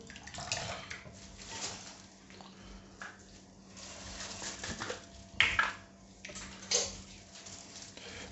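Water sloshes and splashes inside a plastic fermentation bucket fitted with its gasket and an open tap as it is shaken, with irregular swishing bursts and a few sharper knocks, close and moderately quiet.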